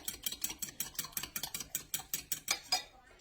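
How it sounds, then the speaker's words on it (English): Butter being mixed into cake donut batter in a bowl, a fast even run of about a dozen light clicks and scrapes of a utensil against the bowl, close and fairly quiet. "Just mix those together."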